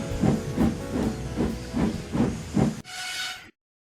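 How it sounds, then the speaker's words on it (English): A steam engine arriving with an express train chuffs in a steady rhythm of about seven beats, then lets off a loud, brief hiss of steam before falling silent. "Later, Gordon arrived with the express."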